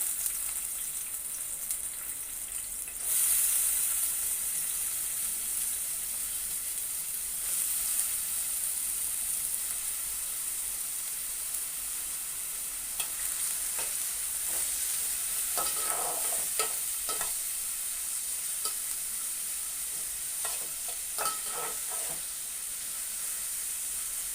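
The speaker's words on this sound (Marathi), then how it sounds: "तेल आपलं गरम झालं ना की आपण त्याच्यामध्ये बारीक चिरलेला कांदा घालायचा।" Finely chopped onion sizzles in about two spoonfuls of hot oil for a spicy dry small-fish dish, a steady bright hiss throughout with occasional scraping stir strokes in the latter half, no voices.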